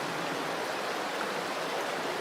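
A river flows in a soft, continuous, even wash of water noise, heard faintly from a short distance with no other sounds breaking through.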